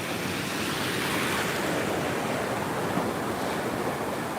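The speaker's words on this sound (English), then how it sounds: "Are there any surfers in the chat that know about these waves, these storm waves?" Storm waves crash in a heavy ocean surf, a dense continuous roar with wind buffeting the microphone, loud and unbroken throughout.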